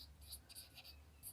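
A pen scratches across paper in soft, quick strokes, faint and close, in a short burst of writing.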